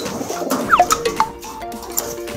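A pigeon of an unusual kind gives a run of short, nasal, duck-like quacking coos, several close calls in quick succession over a soft background.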